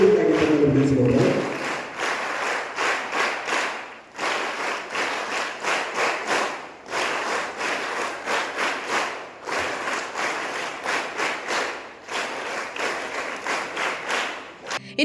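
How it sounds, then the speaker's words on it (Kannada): Audience applause at an inauguration ceremony, several bursts of steady clapping from a crowd separated by short pauses, with a little talk at the start. "ತಾವೆಲ್ಲರೂ ಜೋರಾದ ಚಪ್ಪಾಳೆ ತಟ್ಟುವುದರ ಮುಖೇನ ಈ ಒಂದು ಉದ್ಘಾಟನೆಯಲ್ಲಿ ಪಾಲ್ಗೊಳ್ಳಬೇಕಾಗಿ ತಿಳಿಸಿದ್ದಾರೆ"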